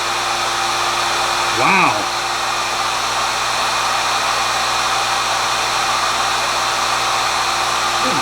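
A heat gun blows hot air in a loud, continuous, steady roar with a constant hum. A brief exclamation is heard over it.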